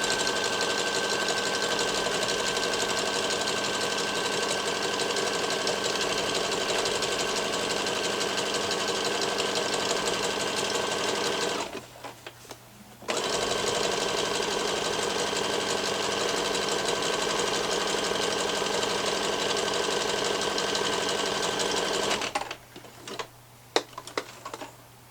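Sewing machine stitching the last seam of elasticated-waist kids' shorts, a long loud continuous hum with a rapid mechanical rattle, close by, pausing briefly twice before a final stop with a few clicks.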